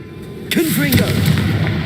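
A Confringo blasting spell in Hogwarts Legacy, a sharp booming burst followed by a crackling, whooshing magical effect with a tonal swirl, loud and close over steady game ambience.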